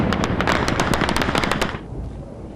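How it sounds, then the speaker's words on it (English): Rapid bursts of AK-47 rifle fire during urban combat in Fallujah, Iraq, loud and close, shots rattling in quick irregular volleys for about two seconds before cutting off to a rumbling background. "the insurgents fired wildly with their AK-47s"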